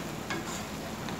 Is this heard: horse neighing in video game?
no